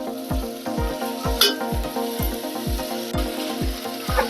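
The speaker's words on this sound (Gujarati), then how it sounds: "હવે બધા મસાલો આપણે હલાવી નાખશું" A spoon stirring spices into fasting-style moraiya khichdi in a pressure cooker, with steady rhythmic scraping strokes roughly every half second over a continuous sizzle of frying, close and fairly loud, without talk.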